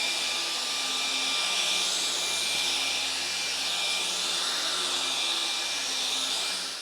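A Laresar Ultra 7 cordless vacuum runs steadily on max boost mode, giving a loud, constant high-pitched whine and airy rush with a low motor hum underneath, close by and with no talking.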